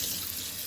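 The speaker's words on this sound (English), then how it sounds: "and then I will put 1 cup of water" Water runs steadily into a pot of freshly washed rice, a continuous close splashing pour with no voices.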